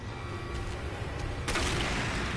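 A flashbang grenade goes off in a video game, a single sudden bright burst that lifts a steady background din and lingers as a ringing wash.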